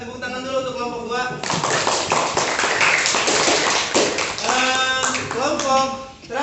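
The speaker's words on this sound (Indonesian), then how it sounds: "tepuk tangan dulu untuk kelompok 2" Applause for a class group during a classroom lesson, a burst of clapping rising after a moment of talk and running on under overlapping voices and chatter.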